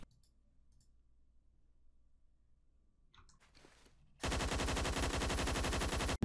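A UMP-45 submachine gun in a shooting video game opens up after a mostly quiet stretch with a few small clicks, then fires a loud, continuous rapid-fire burst that runs for about two seconds.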